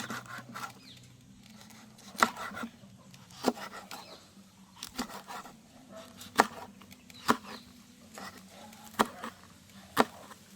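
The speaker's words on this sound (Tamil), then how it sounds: "கறிமிளகாயை இப்படி சைட் பூரா வெட்டுறோம்" A knife chopping curry chillies along their sides on a board, with sharp, separate cuts spaced about a second apart, close and crisp over a low, quiet background.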